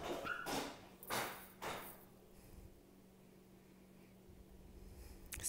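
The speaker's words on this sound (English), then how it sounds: "Sorry, the dogs just ran outside." Several dogs bark in sharp, loud bursts close by during the first two seconds, then fall quiet, leaving a faint steady hum behind.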